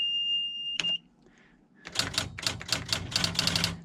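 Keys clack in a quick, close, irregular run on a TA Satellite III manual typewriter, preceded by a short high tone and a pause; no talk.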